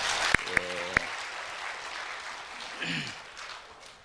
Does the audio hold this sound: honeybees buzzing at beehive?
no